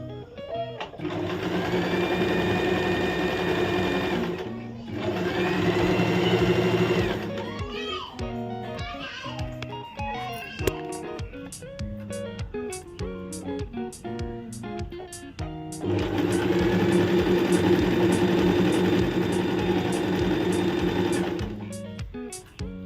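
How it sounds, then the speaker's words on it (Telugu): A sewing machine zigzag-stitches the edges of sarees in two long, loud, close runs of buzzing, rhythmic whirring, separated by a quieter stretch where a voice talks over lighter clicks and handling. "చీరలకు జిగ్జాగ్ అయితే వేస్తున్నాను అనమాట."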